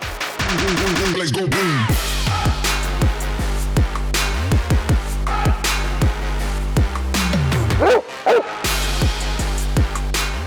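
A large German shepherd barks loudly and repeatedly in a fast, insistent string of deep barks, close by, with a few higher yips mixed in; a service dog trained to detect explosives and weapons.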